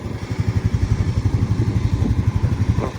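An old Honda ATV engine runs close by with a steady, rhythmic low chugging pulse, idling evenly throughout without any voices.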